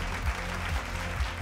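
Applause at a corporate CSR award ceremony, a full crowd clapping steadily throughout, moderately loud and continuous.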